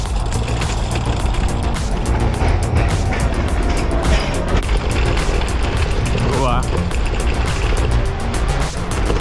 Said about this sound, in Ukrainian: На цьому самокаті, звісно, бруківкою їхати буде смертельно.